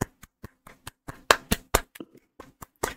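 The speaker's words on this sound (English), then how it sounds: "I think I gotta clap it up for them first." Hands clap irregularly, a dozen or so sharp close claps scattered over a few seconds with uneven gaps, some louder than others, with no talking.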